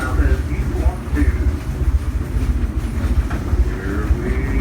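A steam train ride at Silver Dollar City in Branson, Missouri rumbles along, giving a steady, loud low rolling drone with faint rhythmic rail clatter, while people talk over it.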